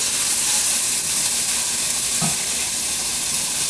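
A pot of soup base sizzles loudly and steadily while salt is stirred in, with a continuous close frying hiss and a faint stirring scrape partway through.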